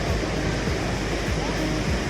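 Steady broadband rush of water pouring over a causeway beside the Katheriya Hanuman temple, a continuous close wash with low churning surges and no pauses.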